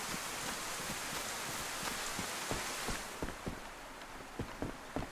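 Rain in the survival video game DayZ, a continuous faint hiss of falling water with scattered louder drop-like taps toward the end, no voices.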